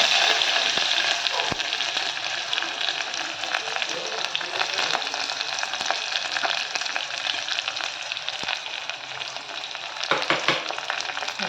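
Chopped onion sautés in ghee in a pan for a Malwani rajma curry, a loud, steady, close sizzle that runs the whole time, with the occasional faint stir.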